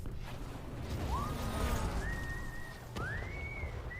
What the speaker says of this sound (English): He just whistling.